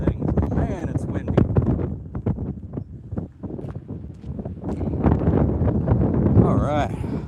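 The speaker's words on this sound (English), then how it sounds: "Man, it's windy." Gusty wind buffets an outdoor microphone in uneven bursts, rumbling under someone talking throughout.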